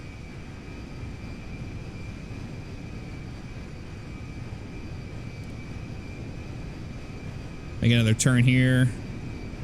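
Boeing 747 LCF Dreamlifter jet engines in GTA 5 give a steady, even drone throughout, with someone briefly speaking over it near the end.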